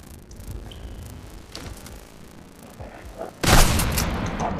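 A sudden loud gunshot blast in the game Total Chaos, preceded by quieter clicks and rumbling, with the boom lingering afterward.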